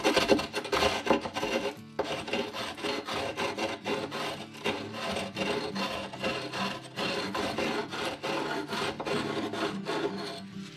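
Rasping and filing strokes on the cured concrete edge of a planter statue, rounding it off: loud, close, steady back-and-forth scraping with a brief pause near two seconds, no voices.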